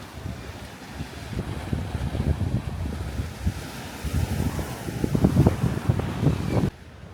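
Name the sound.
Pacific Ocean waves on rocky coast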